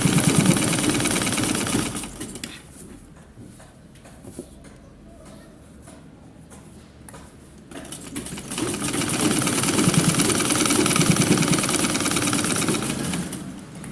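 A sewing machine stitches a summer qandoura in a loud, rapid mechanical whir that pauses for several seconds of quiet, then starts up again and runs steadily until the end.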